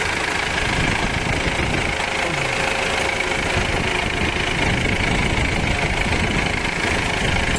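The J4KB engine of a Kinglong van runs at a steady idle, with a loud, continuous rumble and a slight knocking texture that never changes pace.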